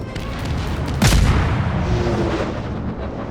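Artillery gun firing in the World War One shooter Verdun, one sharp booming blast with a rolling rumble fading after it, against steady battlefield noise, with no voices.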